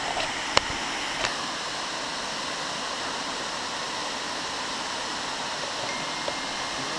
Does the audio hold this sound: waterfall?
yes